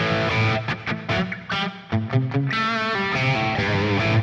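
An overdriven electric guitar on its bridge pickup, a Music Man, plays a bright, biting riff with choppy chords and single notes, loud and up close.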